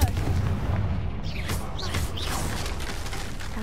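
A Confringo spell explosion in the Hogwarts Legacy video game, a booming blast with crackling debris and whooshing magical effects over a rumbling low background.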